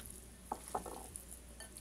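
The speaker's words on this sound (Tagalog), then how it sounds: "Ligyan ko ng asin at hinalo kong mabuti." Shredded green papaya for atsara is stirred with salt, giving a few faint, close taps and scrapes of a utensil against the bowl in a quiet kitchen.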